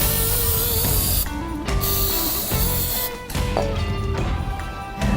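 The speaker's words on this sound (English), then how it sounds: "the first thing I like to do is spray off the drain bolts" Several short bursts of a spray bottle hissing close by as cleaner is sprayed onto KTM motorcycle drain bolts, separated by pauses, over a steady mechanical hum.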